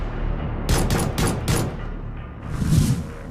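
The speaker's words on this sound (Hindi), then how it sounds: "मुकीम काला पर दागी अंधाधुंध गोलियां।" Gunfire sound effect in a Hindi TV news report on a gang war shooting inside Chitrakoot jail, a quick volley of four or five sharp shots followed by a heavier boom, with no talking.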